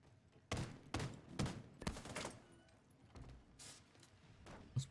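Bursts of video game gunfire echo through a close-quarters hallway in rapid clusters of sharp, loud cracks, with a few scattered shots and thuds between them.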